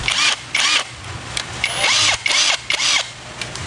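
A Keelat portable hammer drill being tested, its motor whirring in several loud, close bursts that rise and fall in pitch as it spins up and slows down between triggers.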